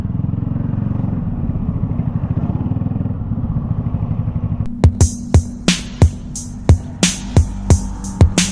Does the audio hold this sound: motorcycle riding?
yes